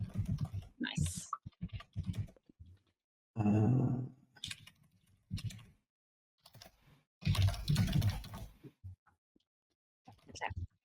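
Computer keyboards clatter in bursts of rapid key presses during a cozy tabletop-style game session, with several voices talking between and over the typing.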